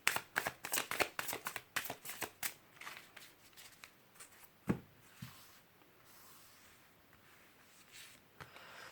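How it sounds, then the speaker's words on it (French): Odyssée runique oracle cards shuffled in a quick run of crisp, close riffling snaps, followed by a single card drawn with a soft slap and then quiet handling. "On va aller chercher une carte de l'Odyssée runique."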